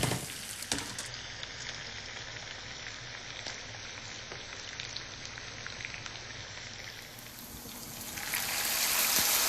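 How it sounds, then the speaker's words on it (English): Peppers and onions frying with bacon in coconut oil in a home kitchen pan while cabbage is being made, a steady close sizzle that holds for the whole stretch and grows louder near the end, with no talk. "just add the peppers and onions"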